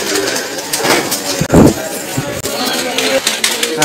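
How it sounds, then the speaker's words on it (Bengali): Pigeons coo in a loft on a farm in Chamta village, Baneshwar, holding more than five hundred birds, soft repeated coos close by over a steady busy background with a louder burst midway. "কাউসার ভাইয়ের কবুতর দেখতে তো পাইলেন কত সুন্দর"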